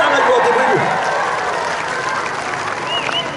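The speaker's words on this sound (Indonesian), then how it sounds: "Tepuk tangan buat ibu ini." A church congregation applauds after the pastor calls for a round of applause for a mother, loud dense clapping fading slightly over a few seconds, with a voice briefly heard under it.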